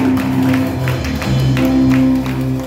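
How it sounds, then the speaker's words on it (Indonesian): Church congregation applauding for Jesus during a service, a sustained wash of clapping over a droning organ or keyboard chord, loud and continuous throughout. "Boleh tepuk tangan yang meriah buat Tuhan Yesus, saudara."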